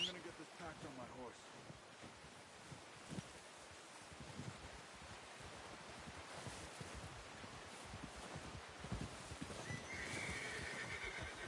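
In the Red Dead Redemption 2 game, a horse whinnies and snorts as its hooves clip-clop along outdoors with rustling and wind, while characters talk over the action.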